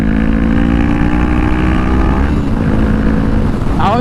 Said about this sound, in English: I always hit the rev limiter on third gear